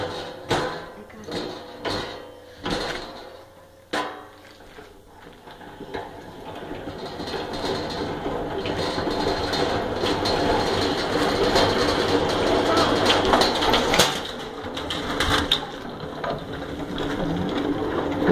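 A tangential four-frame honey extractor starts with a few clunks as the clutch is engaged, then settles into a continuous rumbling whir as the frames spin on the bearings, with faint talk underneath.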